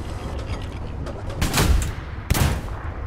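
A Sherman 75 medium tank cannon fires twice in a Hell Let Loose battle, two heavy close booms about a second apart over a rumbling engine background.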